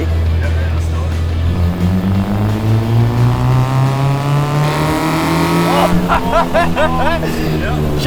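A K-swapped Honda Civic EG winds out hard in a third gear pull, its engine note climbing steadily in pitch as VTEC comes in, then breaking into quick shifts and revs near the end, with people talking over it.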